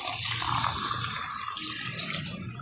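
Water poured into a pan of chilli chicken sauce with Kashmiri chilli powder, a steady close splashing and rushing stream that runs for a couple of seconds, with no talking.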